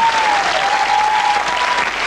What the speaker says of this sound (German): Applaus, kurz Applaus.